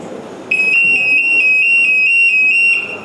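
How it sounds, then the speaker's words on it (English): A quiz buzzer sounds at a quiz contest as a loud, steady electronic tone lasting over two seconds, pulsing slightly, over low room noise and background chatter. "That's why the buzzer is there."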